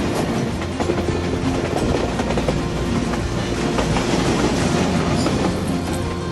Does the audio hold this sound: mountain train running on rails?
yes